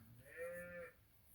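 A single farm animal calls once at moderate distance, a drawn-out bleat-like moo from cows gathering restlessly for hay on a farm, over quiet background.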